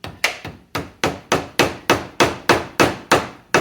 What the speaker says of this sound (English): this one almost go on all the way with the rubber mallet